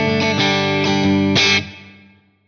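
Electric guitar played through a medium plate reverb, a few chords struck in quick succession, then a long smooth reverb tail fading out alone.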